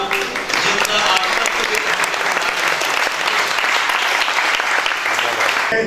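Loud, vigorous applause rises from the audience at a formal tribute ceremony as a guest is welcomed to the stage; dense clapping builds quickly and holds steady, with voices faintly mixed in beneath it.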